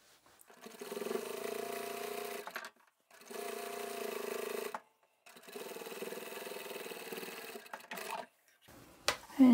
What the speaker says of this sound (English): you can actually start sewing your top stitch from the outside edge